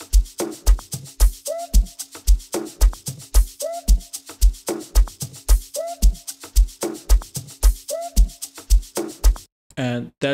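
Amapiano drum groove with a thudding kick and short chopped vocal snippets recurring in each bar, loud and upfront, ending in a brief burst of a different sound.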